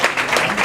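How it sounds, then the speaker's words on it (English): An audience applauds themselves at a brain-health talk, a dense, steady wash of many hands clapping close by with no break. "All right, give yourself a round of applause."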